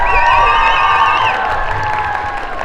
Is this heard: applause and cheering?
yes